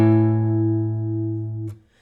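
A single guitar chord strummed on the top strings, as in a song, rings out clear and sustained for under two seconds before being muted with a soft touch of noise.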